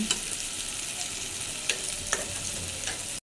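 Onion with green and dried chilies frying in a pan for pumpkin fry, a steady close sizzle with a few light stirring clicks, ending abruptly with no speech.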